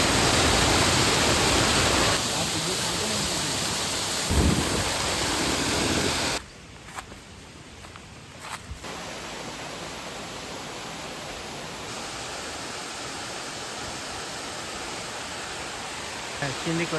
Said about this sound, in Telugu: ఈ వాటర్ ఫాల్ కూడా ఒక బ్యూటిఫుల్ స్పాట్ అవుతుంది